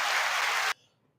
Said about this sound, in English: I didn't mean to hit the applause button for that